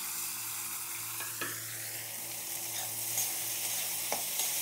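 Chopped tomato and green chilli hit a pan of fried onion, garlic and ginger, producing a continuous close sizzle with a few sharp utensil scrapes and clicks; no one speaks.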